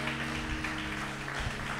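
Church congregation applauding during a worship service, a brief, faint wash of clapping from a distance with no one talking.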